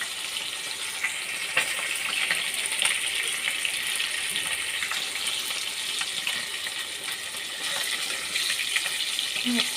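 Rohu fish fries in a pan, a steady hissing sizzle with occasional crackles and pops that holds evenly throughout, close and moderately loud, with no talk.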